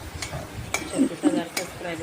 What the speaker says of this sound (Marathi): आणि इकडे छान तेलामध्ये मी मिरच्या, त्यानंतर शेंगदाणे, जिरे मोहऱ्याची फोडणी